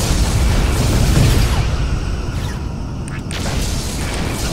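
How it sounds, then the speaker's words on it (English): A Klingon ship blows up in the Star Trek Legacy space combat game, a dense, sustained rumbling blast with heavy low-end boom that thins out toward the end, with game voice chatter around it. "Klingon vessel destroyed."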